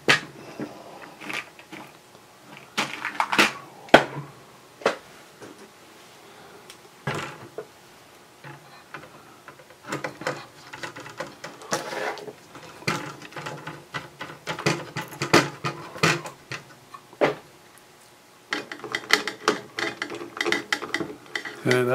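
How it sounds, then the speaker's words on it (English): Screws are driven back into a Tektronix 468 oscilloscope board in scattered bursts of small metallic clicks, scrapes and taps, close and intermittent with quiet gaps between them. "Reinstall all the screws, don't forget all the hidden ones."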